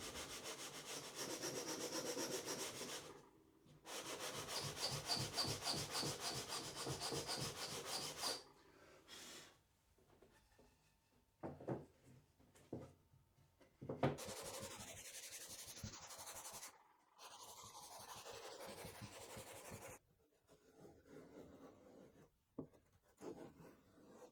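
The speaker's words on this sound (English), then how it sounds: "You take the lid off and you sand down the inside lip of the bottom." Hand sanding on the inside lip of a wooden box with an interlocking lid, rhythmic back-and-forth scratchy rubbing in close bursts separated by short pauses, with softer scraping strokes later on.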